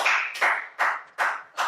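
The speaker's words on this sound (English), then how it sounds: "Let's give it a round of applause for Andrew Lenzi." A guest gets a round of applause: five sharp, evenly spaced bursts of hand claps, close and fairly loud, with no talk over them.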